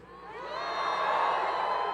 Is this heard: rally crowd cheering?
yes